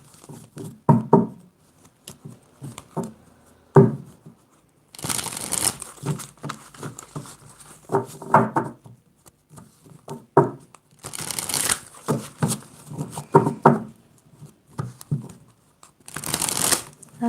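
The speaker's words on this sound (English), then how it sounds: "For that, you'll need to shuffle your cards." Tarot cards are shuffled close up in repeated bursts of crisp, papery riffling and slapping, several rounds separated by brief pauses, with faint talk between them.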